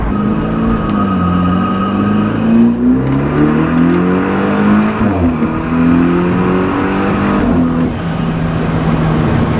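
A BMW F30 accelerates hard with a loud, steady engine note that climbs in pitch through the gears. There are brief dips at the shifts, heard from inside the car with no talking.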